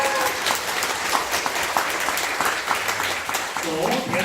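Applause from an audience at a public testimony event in Korea, steady dense clapping filling the whole stretch, fairly close, with a voice speaking faintly over it near the end.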